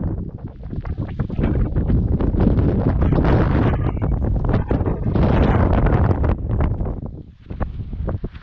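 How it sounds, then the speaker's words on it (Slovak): Strong wind gusts buffet the microphone on a wintry mountain summit at Sninský kameň, roaring loudly in long surges with brief lulls, no voices heard. "Trošku fúka vetrík."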